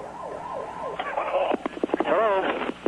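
A volunteer ambulance siren wailing in sweeping up-and-down cycles, then shifting to a faster yelp pattern, moderately loud amid a busy emergency scene with choppy radio-like bursts.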